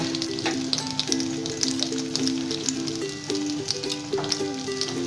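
Eggplant frying in a wok sizzles steadily as tomatoes go in, a close, constant crackle with a faint tonal hum running beneath it and no talk.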